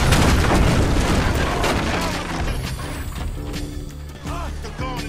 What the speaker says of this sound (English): They got me pinned down, shoot that gas can.